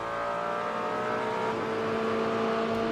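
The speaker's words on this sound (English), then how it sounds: "as he releases the pit lane speed limiter and gets back up to speed" Corvette GT race car in an IMSA GTD PRO race, engine droning steadily and building as it accelerates out of the pit lane after the speed limiter is released, a continuous, moderately loud motor note with no voices.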